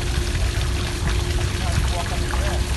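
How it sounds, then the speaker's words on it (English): A garden fountain at the Huntington gardens sends a steady, loud wash of pouring, splashing water that runs continuously through the moment. "you can see this gorgeous fountain. And you can hear the lovely water."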